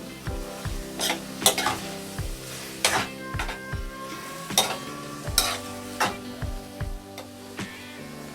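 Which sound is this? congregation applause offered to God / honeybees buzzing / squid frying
squid frying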